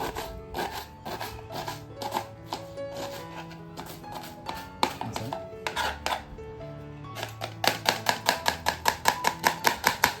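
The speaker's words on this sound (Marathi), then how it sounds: "जसा वेळवाले कांदा कापतात तसा एकदम बारीक छान कांदा कापता येतो मला" A knife chops an onion very finely on a board, giving quick, regular taps that speed into a fast, even rhythm toward the end, close and clear.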